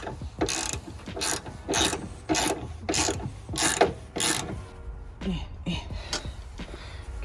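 A ratchet tightens the strut tower brace bolts on a 2011-14 Mustang. It gives seven quick, evenly spaced bursts of clicking up close, then a few softer clicks.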